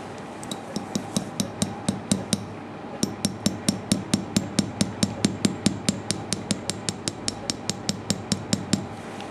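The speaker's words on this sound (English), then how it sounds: "Hammer." Steady series of about thirty sharp metallic surgical hammer blows on an intramedullary nail during distal tibia nailing, struck in an even rhythm with a brief pause early on, close and clear with no talking.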